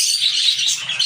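Pet birds chirping in a quick, continuous high-pitched twitter, close and fairly loud, with no voices.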